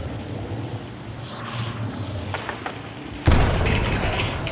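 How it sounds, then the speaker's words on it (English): A grenade goes off in a video game, a sudden loud boom that cuts through a low rumbling background and leaves a sustained noisy roar afterward. "I'm gonna throw a grenade."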